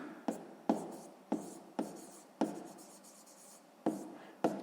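A pen writes on paper in a quiet room, making a series of short distinct scratching strokes at an uneven rhythm, close and clear, with no voices.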